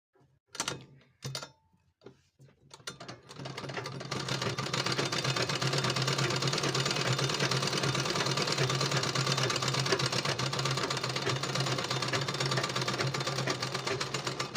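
A full shuttle sewing machine stitches a trial seam, starting after a few soft clicks and handling noises, then running in a steady, rapid mechanical chatter at moderate distance, with no talk over it.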